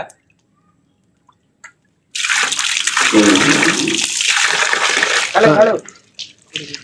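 Water splashes and pours during washing with soap, a dense running-water wash lasting several seconds after a quiet start, with brief speech mixed in.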